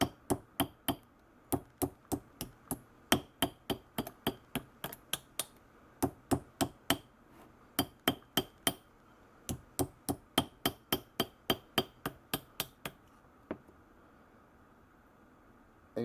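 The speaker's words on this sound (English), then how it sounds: "you start by holding the metal there and then gently start tapping it as you bring it around" Tin sheet metal is gently tapped with a hammer as it is bent around a mandrel to form a circle: a long run of close, sharp, regular metallic taps, pausing briefly midway, with no talking.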